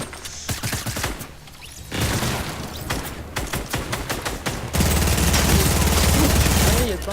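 Dense bursts of gunfire crackle through a video game battle during a duo tournament, with rapid overlapping shots and volleys that grow into a loud, sustained barrage near the end.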